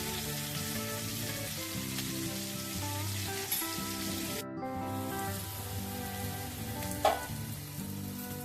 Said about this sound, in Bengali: ক্যাপসিকাম, গাজর, এগুলোকে আমি অল্প নুন দিয়ে ভেজে নেব